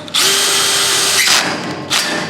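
A power drill runs in two close, loud bursts, driving screws to attach casters to a Recteq Deck Boss 800 pellet grill, with a brief dip between runs.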